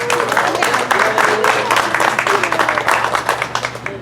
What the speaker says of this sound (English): Joe, can we get one more round of applause for her?